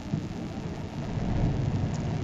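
A Volvo VNL 780 semi truck's diesel engine in American Truck Simulator settles into a steady low rumble right after starting, a continuous idle with no voices.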